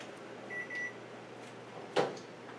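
A kitchen oven gives two short, faint electronic beeps as it is switched off, followed a moment later by a soft clunk in a quiet room.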